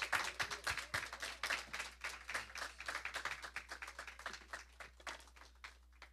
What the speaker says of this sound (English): Y'all give Brother Fonte another round of applause for that lesson.